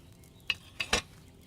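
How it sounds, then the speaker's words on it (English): A cauldron of water boiling over a fire in Kingdom Come: Deliverance II gives three quick, quiet bubbling pops over a low, soft background. "Hear that bubbling? It's boiling."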